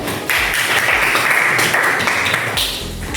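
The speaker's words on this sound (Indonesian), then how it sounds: "silakan duduk, beri tepuk tangan dulu." Students in a classroom clap together for a few seconds, a fairly close, busy patter that starts abruptly and trails off near the end.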